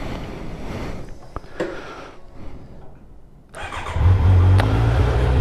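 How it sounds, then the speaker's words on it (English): A motorcycle engine cranks and fires after a few quiet clicks and handling noises, catching into a loud, close, deep idle that holds steady to the end. "once I start the bike up here"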